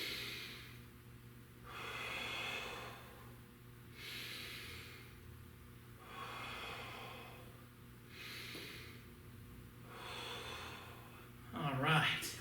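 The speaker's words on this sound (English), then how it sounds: "Exhale as you lean into a stretch." Slow, steady breaths repeat in a regular cycle of long exhales and inhales during a stretching class, soft and close with faint background noise, ending in a short rustle.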